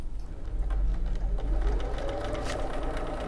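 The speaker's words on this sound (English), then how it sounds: "that's sewing through that beautifully" A sewing machine fitted with a roller foot stitches steadily through leather, its rapid needle chatter continuous and close for the whole stretch, with no voices over it.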